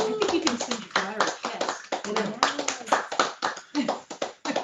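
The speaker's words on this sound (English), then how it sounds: "Can we give a round of applause?" Scattered clapping from a small audience at an award recipient introduction, with individual hand claps close by mixed under people talking, including a voice.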